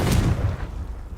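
The Confringo fire-blast spell detonates in Hogwarts Legacy as a single deep, booming burst with a sharp onset, then rumbles and fades within about a second, loud and close with no voice over it.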